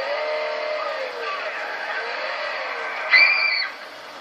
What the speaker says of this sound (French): Vous pouvez entendre ce moteur.